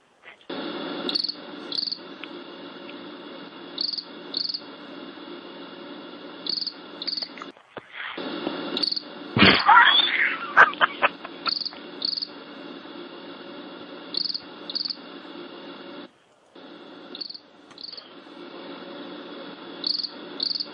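Crickets chirp steadily in short, regular pulses that repeat throughout, loud and close, with a brief burst of rustling noise partway through and a couple of short gaps.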